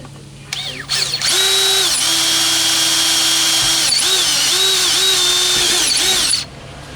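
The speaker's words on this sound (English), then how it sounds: "Let's drill out some of the holes here on our fiberglass lid." A power drill bores holes in a fiberglass camper lid. It makes a loud, close whine in several long bursts, with the pitch dipping as the bit bites and revving up again between holes.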